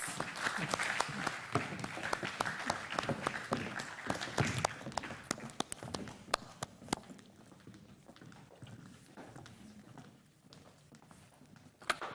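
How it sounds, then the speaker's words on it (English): An audience at a privacy symposium in Africa applauds, dense clapping ringing through a hall and then thinning into scattered claps as it fades toward the end. "Can we give them a round of applause as they go back to their seats?"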